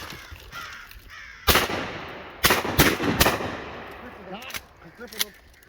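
Loud shotgun blasts during a crow hunt in western New York, three or four sharp bursts with echoing tails, crows cawing around them and hunters talking in between.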